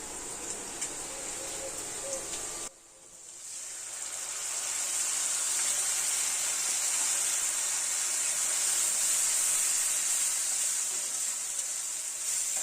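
Ginger, garlic, onion and cumin paste sizzling in hot oil with fried onions while cooking a Bengali mutton curry with potatoes, a steady close hiss that dips briefly and then swells into a continuous loud sizzle.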